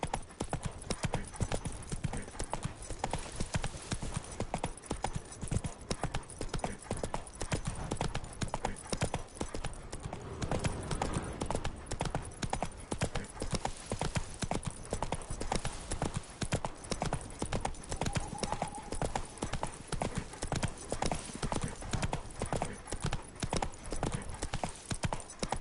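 Roach the horse trots on hooves in The Witcher 3, a steady, loud clip-clop rhythm running continuously throughout with the occasional soft snort, no talk.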